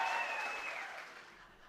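Comedy club audience clapping and cheering at a stand-up show, a fading wash of applause with a thin whistle or high cheer on top, tapering off quietly.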